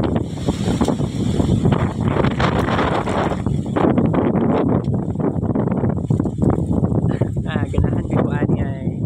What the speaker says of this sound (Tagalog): windy day and cloudy day ang weather karon